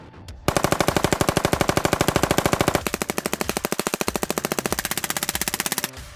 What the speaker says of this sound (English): The following example shows how a suppressor can change the sound of a firearm discharge.